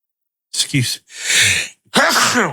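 A single sharp sneeze bursts out between short spoken phrases, close to the microphone.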